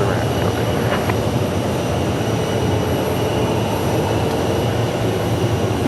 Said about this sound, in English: American Airlines Flight 2450 from Salt Lake City, Airbus A319.